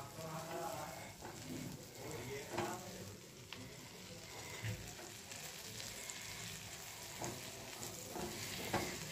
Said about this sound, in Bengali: বাটার দিয়ে এটাকে ভালো করে সুন্দর করে ভেজে নেব এই বাটারে।